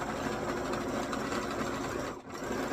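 A sewing machine runs steadily, stitching through a special-occasion hat with a fast, even mechanical chatter up close, pausing briefly near the end before resuming.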